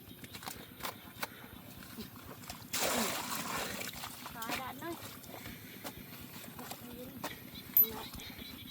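Water is poured in with a brief, rushing splash lasting about a second, heard in the middle of ongoing talk with some scattered knocks and clicks around it.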